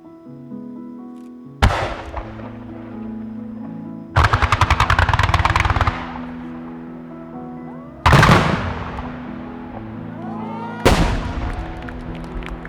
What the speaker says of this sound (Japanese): 以上でメッセージ花火の打ち上げを終了いたします。